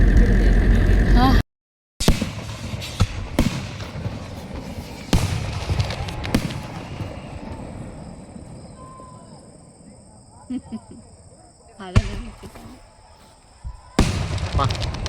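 Several sharp firecracker bangs go off at irregular intervals during a Chitra Pournami village festival, loud and nearby, with people talking and background noise between the bursts.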